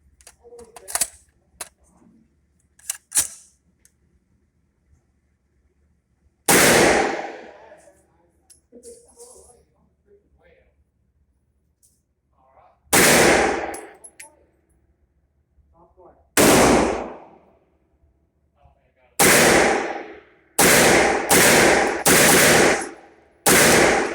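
A Masterpiece Arms 9mm MAC fires magazines of Winchester ammunition in loud, close bursts: a few isolated shots, then longer rapid strings, with quiet gaps and faint background talk between them.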